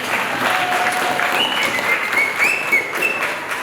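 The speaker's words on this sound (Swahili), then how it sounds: "Tumpe Yesu makofi" A church congregation applauds for Jesus with sustained, dense clapping from many hands, loud and close, while a few whoops and voices rise above the crowd.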